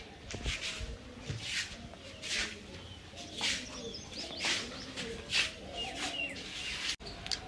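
Pigeons coo and call repeatedly around a home loft where two newly released birds have come back to settle, soft throaty coos recurring throughout with some rustling and chirps nearby.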